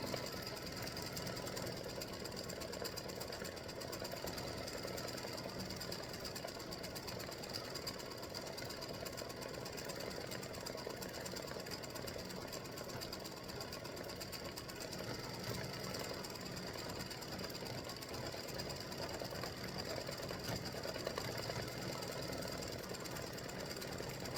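Embroidery machine stitching free-standing lace Halloween Boo earrings in bright green thread, a steady, continuous mechanical whirring and rapid needle clatter running unbroken throughout, close and fairly loud with no talking.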